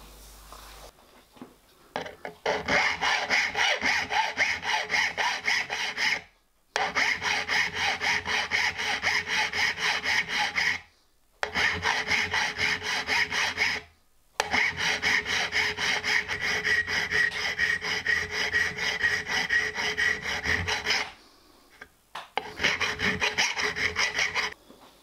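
A hand file works a steel valve gear rocking shaft part for a 5-inch gauge model locomotive, guided by hardened filing discs: loud, close, steady rasping strokes in four long runs split by short pauses.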